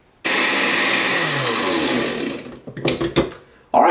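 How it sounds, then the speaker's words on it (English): A blender pureeing a carrot-based pizza sauce, starting abruptly with a loud steady whir for about two seconds, then slowing into uneven sputtering pulses before a final brief burst. "we're going to blend this up"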